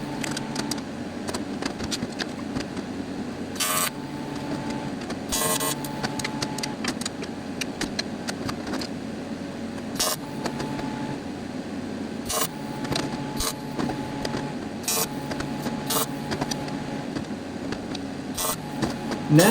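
TIG welding with argon shielding gas on a catch can build, a steady faint electrical hiss and buzz running continuously with scattered short clicks and ticks, no voices.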